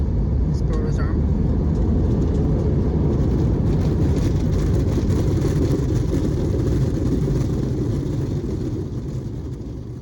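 Airliner jet engines in reverse thrust on landing at DFW airport, a loud, sustained broadband roar heard from inside the cabin, steady throughout and easing slightly at the end, with voices faintly mixed in.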